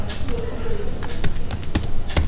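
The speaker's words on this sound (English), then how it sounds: "So if we type the query as follows" Typing on a computer keyboard to enter a query: a quick run of crisp, close key clicks at an irregular rhythm, a little louder toward the end, with no talking.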